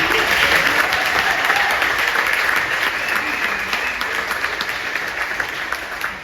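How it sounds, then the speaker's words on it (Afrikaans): Live audience at a KKNK arts festival cooking show gives the technical crew a round of applause, dense continuous clapping from a large crowd that holds steady and fades slightly near the end. "Kom ons gee lekker aan die klap aan ons tegnies gespan."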